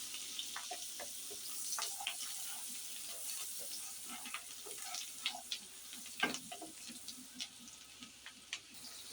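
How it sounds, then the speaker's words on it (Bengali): Onions frying lightly in a pan after hilsa fish, with a steady, faint sizzle and scattered small crackles and stirring clicks close by. "পেঁয়াজটা একটু হালকা ভাজা দিয়ে নেব।"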